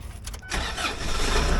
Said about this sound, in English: before I couldn't even start the car